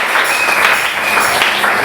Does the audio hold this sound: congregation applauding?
yes